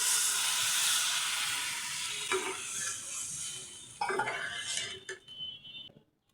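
Water poured into a hot pan of fried onion, ginger and garlic paste for an egg curry hisses and steams loudly, then fades, with a few metallic clinks of utensils against the pan.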